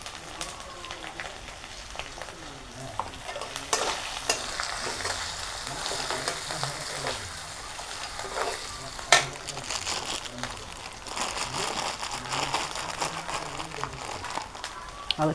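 Hilsa fish and spices fry in a pan with turmeric, panch phoron and dried fish being added, giving a steady sizzle broken by scraping stirs and small clinks, close and continuous with no talk.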